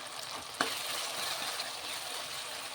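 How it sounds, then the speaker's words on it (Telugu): Onion and tomato sizzle in a pan for a drumstick and egg curry, a steady, moderately quiet frying hiss broken by one clear clink of a stirring utensil early on. "ఉల్లిపాయ టమాటా అన్నీ బాగా ఫ్రై అయిపోయాయండి."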